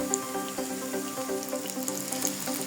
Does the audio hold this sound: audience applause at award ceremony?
no